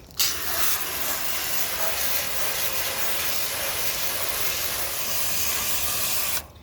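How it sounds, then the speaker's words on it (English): A steady, loud hiss of a garden hose spraying the fins of an outdoor air conditioner unit, continuous for several seconds and then cutting off abruptly. "once it's off and you've got your hose, all you have to do is spray it"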